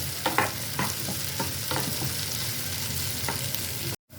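Fried soya chunks stirred into a tomato ketchup sauce in a pan for chilli soya, a continuous soft sizzle broken by scattered spoon scrapes and clicks, close and unaccompanied by speech.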